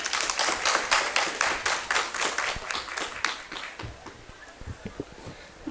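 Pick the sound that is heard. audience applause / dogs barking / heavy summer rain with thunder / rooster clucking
audience applause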